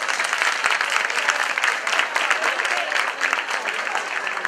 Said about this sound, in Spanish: Un fuerte aplauso para ellos y ellas.